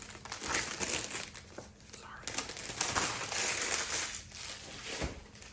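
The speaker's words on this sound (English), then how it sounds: "you will never have to listen to the crinkling of this particular chart again" Crinkling plastic sleeve around a cross-stitch chart being handled up close, with continuous rustling and crackling pulses across the whole stretch and a soft voice murmuring underneath.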